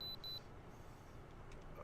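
Warning beeps from a truck's cab in American Truck Simulator, a few short high electronic bleeps at the start over a steady low road drone, fairly quiet.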